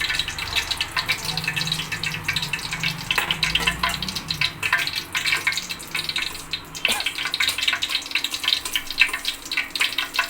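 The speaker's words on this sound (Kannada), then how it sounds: "ಇದಕ್ಕೆ ನಾವು ಇವಾಗ ಜೀರಿಗೆ ಮತ್ತು ಸಾಸಿವೆನ ಹಾಕ್ತಾ ಇದ್ದೀವಿ" Cumin and mustard seeds crackle and spit in hot oil for a rasam tempering, a busy popping sizzle that keeps going throughout, close by with no talking.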